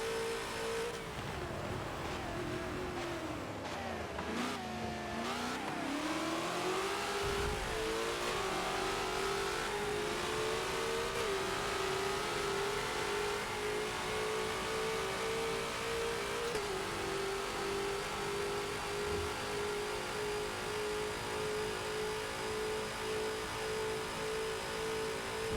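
A Ferrari race car engine in Forza revs hard and climbs through gears, then holds a loud, steady high-pitched drone for nearly half a minute.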